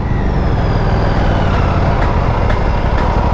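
An Aprilia RS457 motorcycle held in second gear on the road: a loud, steady engine drone with dense low rumble and a faint rising whine, continuous throughout with no talk.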